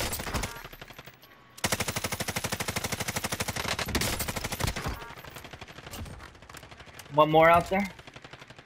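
Sustained bursts of light machine gun fire in Call of Duty Warzone, a long rapid rattle followed by shorter volleys, loud and close, with a player's voice speaking briefly near the end.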